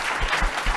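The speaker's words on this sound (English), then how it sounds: "I'm hoping you'll join me in a round of applause for our incredible panel" Conference audience applause for a panel, a short burst of steady, close clapping with slight swells and no voices.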